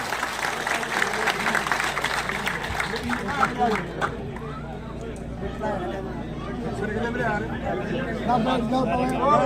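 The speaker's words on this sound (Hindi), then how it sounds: "जोरदार तालियों के साथ एक बार इनका हौसला बढ़ाएं।" Scattered clapping from a crowd at a village political rally in Khubdu, Haryana, rises amid loud chatter and murmuring voices, a gathering applauding while people keep talking.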